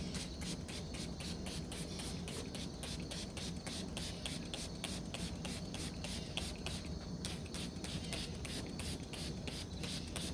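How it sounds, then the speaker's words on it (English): A spray bottle of alcohol solution mists plants in a winter plant-care routine, pumped in a quick, steady rhythm of close hissing squirts that runs on without pause. "So I'm just going to spray these plants down."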